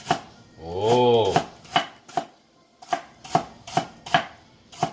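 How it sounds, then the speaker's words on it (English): A kitchen knife slices celery thinly on a cutting board for a shrimp and vegetable stir-fry, giving a steady series of sharp, close taps after a short whistling tone at the start. "Thinly cut the celery."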